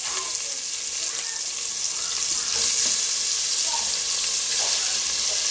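Shrimp sizzling in a pot over a medium-high flame, a loud continuous hissing fry with faint crackles and pops, steady throughout.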